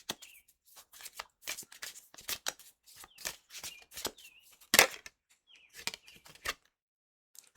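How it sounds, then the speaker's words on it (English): Round tarot cards are shuffled by hand in quick, irregular bursts of papery riffling and flicks, close and fairly quiet, with short pauses between them. "These things are hard to shuffle because they're round."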